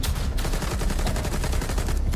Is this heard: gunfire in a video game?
yes